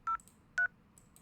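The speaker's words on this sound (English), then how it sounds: "Now the phone is ringing." Two short DTMF keypad beeps from an IP phone in a network lab, evenly spaced, clean and moderately loud over faint background hum.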